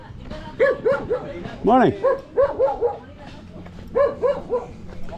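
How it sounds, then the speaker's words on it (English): Several dogs bark and yip in short bursts close by in the Philippines, in clusters with gaps between them, while a man calls out a brief greeting. "Oh, the dogs have found me."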